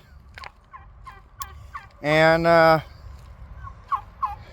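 Farm turkeys gobble, one loud rattling gobble up close in the middle among short clucks and chirps from other fowl around it; a single brief spoken word is heard.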